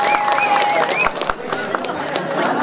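Crowd at a rural community gathering clapping hands, scattered sharp claps over a steady murmur of voices and babble, fairly close and loud.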